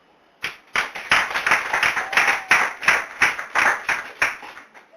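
A church congregation clapping in praise, a run of sharp, loud, evenly spaced claps in a steady rhythmic beat, close and filling the room, with a faint voice or tone in the background.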